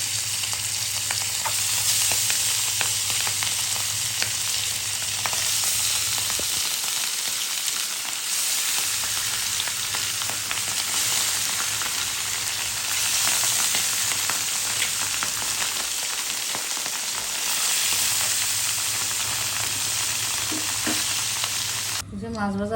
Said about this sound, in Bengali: দিয়ে দিলাম মাছ ভাজা